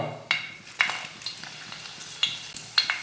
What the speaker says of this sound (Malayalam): അതിലേക്ക് ഒരു 3 പച്ചമുളക് ഇട്ട് കൊടുക്കാം